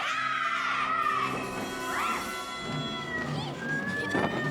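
A cat gives a run of drawn-out, wavering meows and yowls, loud and close, with a few rising and falling cries spaced over several seconds.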